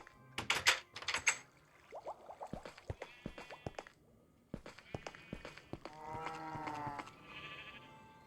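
Psychedelic sheep on a video game farm bleat repeatedly in short, wavering cries, close and clear, mixed with scattered clicking and tapping.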